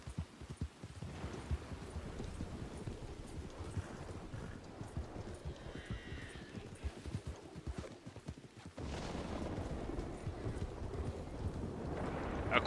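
A horse in Red Dead Redemption 2, uneasy during a thunderstorm, gives a fast, irregular run of hoof clops at moderate distance over a windy outdoor backdrop, with a brief neigh-like squeal in the middle and a rise of wind noise late on.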